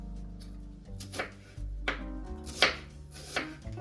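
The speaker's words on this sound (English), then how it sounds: "The first step is to slice the onions. We're going to slice it with the grain." A knife slices onions on a cutting board in a series of crisp, irregular chops with soft thuds, close by and alone, with no voices.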